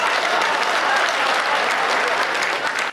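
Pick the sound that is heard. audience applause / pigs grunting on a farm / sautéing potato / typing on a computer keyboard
audience applause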